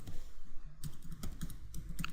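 Quick, irregular clicks of typing on a computer keyboard, fairly close and crisp, with short pauses between bursts of keystrokes and no voices.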